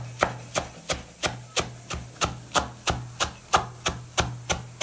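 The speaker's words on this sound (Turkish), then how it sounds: "Bir demet maydanozu doğrayıp kenara alıyoruz." A knife chops a bunch of fresh parsley on a board in a home kitchen, striking about fourteen times in a steady, even rhythm, each crisp close thwack standing alone without talk.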